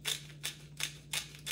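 A pepper mill grinds black pepper over food being mixed with fish sauce, five quick rasping bursts in a steady rhythm, close and crisp, with a faint steady hum underneath.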